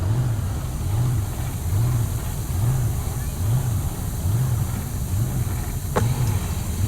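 A supercharged drag racing car with a big blower and a huge injector sits at Heartland Park Topeka during Rocky Mountain Race Week, its engine loping in a steady, lumpy rhythm, loud and close throughout, with a brief sharp tick near the end.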